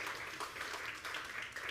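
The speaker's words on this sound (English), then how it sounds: "So yes, shout out and applause for Gregory." Applause from an audience at a live documentary-themed talk show, a steady, fairly faint wash of many hands clapping that lasts throughout without voices.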